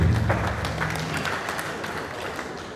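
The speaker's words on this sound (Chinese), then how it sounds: "我们掌声欢迎我们的林明杰议员。" An audience at a Kaohsiung sports-team flag ceremony claps to welcome a city councillor, with brisk applause that starts strong and thins slightly, a brief voice audible at the very start.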